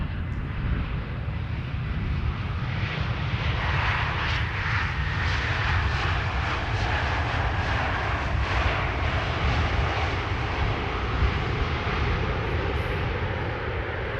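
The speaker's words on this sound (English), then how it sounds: "EasyJet returning from Edinburgh" EasyJet airliner arriving from Edinburgh on the Polderbaan runway 18R at Amsterdam Schiphol, a sustained rumbling jet roar with a faint whine on top, steady and moderately loud throughout with no talking.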